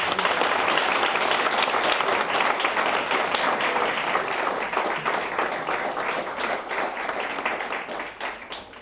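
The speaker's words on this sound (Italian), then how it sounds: "col vostro applauso che noi possiamo soltanto accogliere il grande nostro amico di" An audience at a fiftieth-birthday celebration applauds to welcome Rosario, sustained close clapping from many hands that holds steady for several seconds before starting to thin out at the end.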